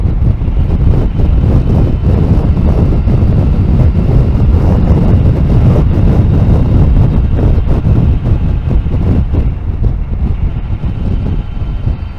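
Strong wind buffets the microphone in a continuous low roar that rumbles loudly and unevenly throughout, with no other clear sounds, outdoors in the Palatinate region of Germany.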